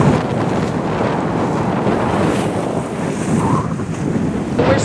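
Sailboat under way in a 17-knot wind off Mexico's Pacific coast near La Cruz, with heavy, steady wind rush buffeting the microphone over the wash of water along the hull.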